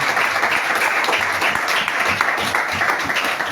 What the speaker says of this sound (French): Est-ce qu'on va acclamer le Seigneur pour la maman?